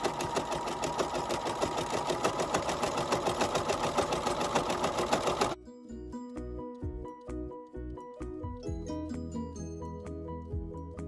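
A sewing machine back stitches and sews a seam on the body of a body pillow, running in a fast, steady, close-up mechanical patter for about five seconds before stopping. Quieter, sparser sounds follow.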